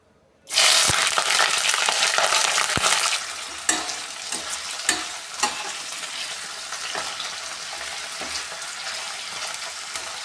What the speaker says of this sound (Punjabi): ਤੇਲ ਵਿੱਚ ਗੋਭੀ ਨੂੰ ਉਦੋਂ ਤੱਕ ਫਰਾਈ ਕਰਨਾ ਜਦੋਂ ਤੱਕ ਦਾ ਕਲਰ ਚੇਂਜ ਨਹੀਂ ਹੋ ਜਾਂਦਾ